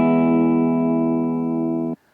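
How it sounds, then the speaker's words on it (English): A simple, dry electric guitar riff played without any reverb, sustained tones ringing steadily and loudly for about two seconds before cutting off abruptly. "A simple guitar riff, it's got no verb on it."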